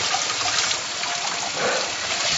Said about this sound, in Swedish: Nu ska vi bara ha lite vatten.